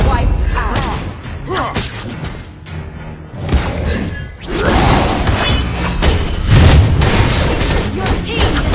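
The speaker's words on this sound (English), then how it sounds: "Your team destroyed the turret." A turret in the Mobile Legends video game is being destroyed amid loud booms, crashes and whooshes of battle effects, with an announcer-style voice in the dense, continuous mix.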